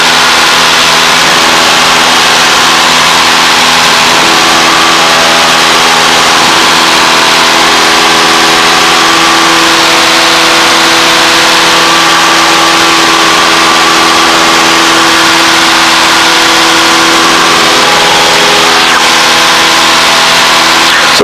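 A 180 HP light aircraft engine drones steadily through a climb on a bumpy day, a loud continuous cabin roar with strong harmonic hum that holds unchanged throughout.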